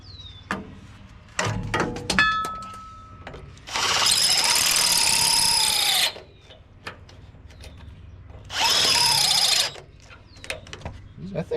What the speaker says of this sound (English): Now for the fun part of seeing how cool it is to drill through a hardened steel frame.